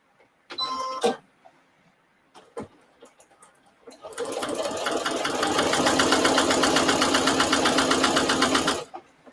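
A sewing machine stitches a placemat with mitered corners, starting after a few handling clicks and running steadily at a fast, even rhythm for several seconds close by before stopping.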